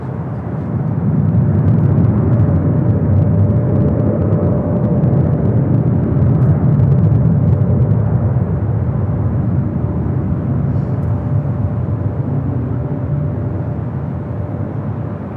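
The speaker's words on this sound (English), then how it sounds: "24 left, clear for takeoff, Skywest 4001." SkyWest jet on takeoff roll from runway 24 left at LAX, a loud, steady broadband engine roar with a faint whine, holding at near-constant strength for about fifteen seconds.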